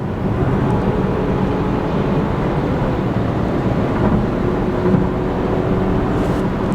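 Inside an inexpensive new car at 65 mph on the highway, loud constant tyre roar and road rumble fill the cabin without letup, a dense broadband drone with no talking.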